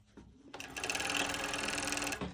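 An industrial cover stitch sewing machine runs in a steady, rapid mechanical whir for about two seconds, starting after a brief pause and stopping abruptly, loud and close with a dense rhythmic needle chatter throughout.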